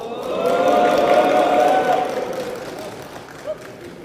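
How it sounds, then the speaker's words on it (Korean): A political rally crowd cheers and applauds for party leader Lee Jae-myung, a broad swell of voices and clapping that peaks then fades over a few seconds. "이재명 당대표님께 우름창 함성과 박수 한 번 보내주시기 바랍니다"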